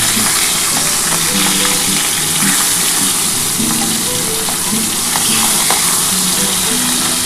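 Rohu fish pieces fry in hot oil with a dense, loud, steady sizzle and crackle, up close, with a few light clicks as the pieces are turned.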